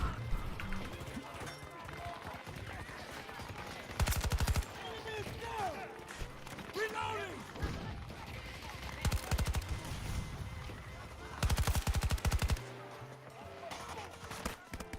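Bursts of heavy gunfire and explosive bombardment in a video game, loud dense volleys at intervals amid game noise, with voices talking throughout.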